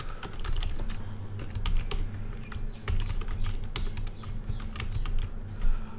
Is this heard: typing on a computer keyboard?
yes